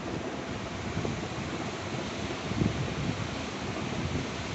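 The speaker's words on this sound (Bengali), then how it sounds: "এই যে সেই বাতাস হচ্ছে" Strong wind gusting outdoors among tall trees ahead of a thunderstorm, a steady broadband rush with a brief stronger gust, fairly faint and without speech.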